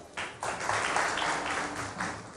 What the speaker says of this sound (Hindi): अगर आप तालियां बजा सकें तो ज़रूर बजाइएगा